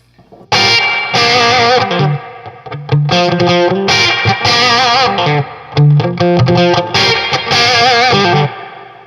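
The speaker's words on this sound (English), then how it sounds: "Reverb." Electric guitar with reverb added, played through a rig with an Analog Alien Rumble Seat pedal, loud and sustained, with strummed chords and picked notes ringing out in long phrases.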